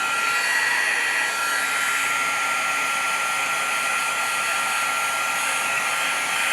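Steady, loud roar of a heat embossing gun blowing hot air over a papercraft project, an unbroken hiss and whine that runs the whole time at close range with no talking.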